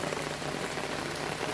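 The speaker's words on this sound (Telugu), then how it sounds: "పెరుగుతుంది వాన" Rain falls steadily on a first-floor L-shaped terrace, a dense, even patter of drops close by and growing heavier, with no voices.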